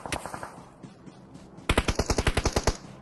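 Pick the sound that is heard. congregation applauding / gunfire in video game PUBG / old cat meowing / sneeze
gunfire in video game PUBG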